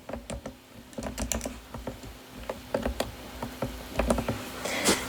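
Quick irregular key presses, close and crisp, as an arc cosine calculation is entered on a calculator, with bursts of clicks and short pauses and no talk.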